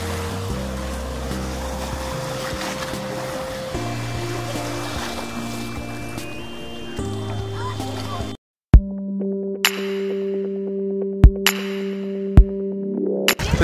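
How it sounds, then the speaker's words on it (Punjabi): Powerful 400cc speedboat engines run at sea off Coral Island near Pattaya, Thailand, with a steady loud droning hum, a brief cutout, then renewed roaring with sharp knocks. Someone talks over it throughout. "ਤੁਸੀਂ ਦੇਖ ਸਕਦੇ ਇਹਨਾਂ ਦੇ ਕਿੰਨੇ ਕਿੰਨੇ ਤਕੜੇ ਇੰਜਨ ਨੇ 400 ਸੀਸੀ ਦੇ ਟੋਟਲ ਲੰਬੋਰਗਿਨੀ ਵਾਂਗੂ ਸਾਊਂਡ ਆ ਇਹਨਾਂ ਦੀ"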